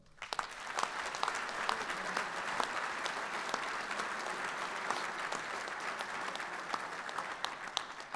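Steady audience applause fills a logistics awards dinner hall for Combat Logistics Regiment 37, dense clapping sustained at an even level throughout with no voices on top.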